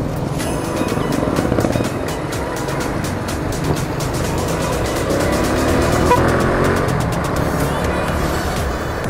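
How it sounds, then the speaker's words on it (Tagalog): Motorized tricycles and other vehicles pass in steady traffic on a side street in Alabang, in the Philippines, making a continuous loud engine drone and rumble that swells and fades as they go by. "Yan lang yung mga tricycle yan."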